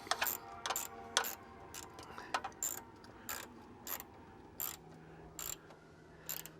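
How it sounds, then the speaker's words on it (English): Ratchet snugging small bolts on a car battery hold-down, giving short bursts of crisp clicks close by, separated by brief pauses, fairly quiet overall. "just at the end, go ahead and use your ratchet"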